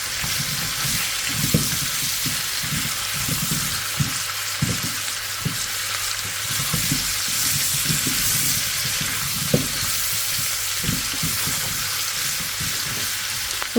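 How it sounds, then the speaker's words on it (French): Sugar melting in a pan for tarte tatin gives off a steady soft sizzle, broken by a run of small rhythmic knocks and clatters as the pan is moved or stirred; no one speaks. "Le sucre commence déjà à fondre."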